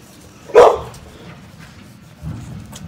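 A single sharp puppy bark or yip rings out close by, followed by quieter shuffling and low rustling noise, with no talk in between.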